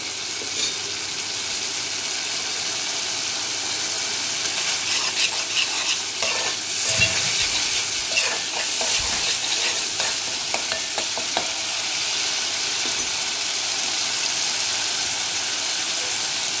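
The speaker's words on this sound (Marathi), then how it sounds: "त्याला व्यवस्थित मस्त असं तेल सुटून द्यायचं या मसाल्याला" Masala paste for a Maharashtrian fish rassa, cooked with tamarind water, sizzles and fries in oil while a spoon stirs and scrapes it steadily, close and loud with no talking.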